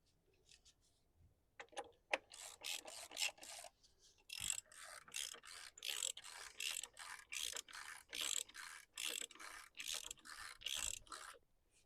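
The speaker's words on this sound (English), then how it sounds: "And get your socket on." Socket ratchet tightening an engine oil drain plug on a driveway, quiet and close, with a few tentative clicks and then a regular series of short rasping ratchet strokes.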